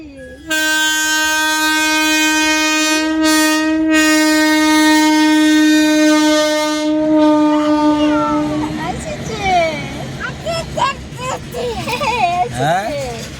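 A goods train sounds a long, loud, steady horn blast as it approaches, then rumbles past close by with rolling clatter while a child and adults chatter excitedly over it.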